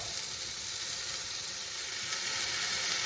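A burger patty topped with cheese sizzles on a griddle, a steady, dense frying hiss holding constant throughout with no talk.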